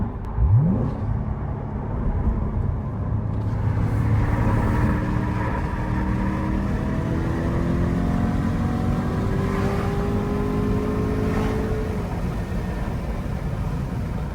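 A manual sports car engine climbs in pitch as it accelerates through the gears, a loud sustained drone with rising whine and rushing road noise, no talking.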